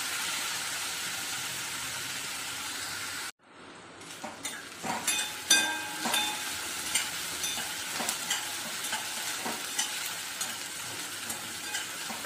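Onion sautéing in a pan for a sprouted masoor usal hisses in a continuous broad sizzle. It drops out abruptly, then returns with close stirring scrapes and clinks over steady frying.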